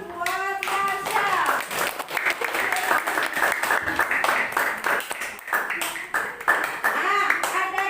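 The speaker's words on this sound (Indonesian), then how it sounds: "beri tepuk tangan buat Marsha" A classroom of students applauds a classmate named Marsha, steady scattered clapping filling the room while children's voices chatter underneath throughout.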